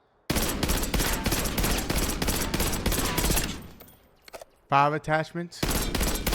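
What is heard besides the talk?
automatic gunfire from video game Black Ops 6, recoil test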